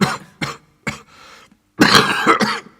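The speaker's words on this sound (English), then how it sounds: "Suddenly the miner began to cough violently, covering his mouth with a dirty handkerchief." A coal miner coughs violently into a dirty handkerchief held over his mouth. Several harsh, chesty coughs come in an uneven series and end in a louder cluster, close and alone with no speech.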